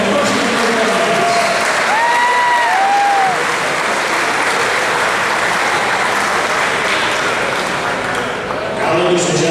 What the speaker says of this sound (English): give one more round of applause for all of our current Sports Hall of Fame members and their families